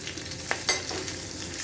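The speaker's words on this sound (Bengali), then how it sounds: "2টো তেজপাতা আর 2টো কাঁচা লঙ্কা চিড়ে দিই, আর দেবো গোটা গরম মশলা আর কালো জিরে" Bay leaves, slit green chillies, whole garam masala and nigella seeds crackle in hot oil, a dense close sizzle with a couple of sharp spatula scrapes against the pan, no voices.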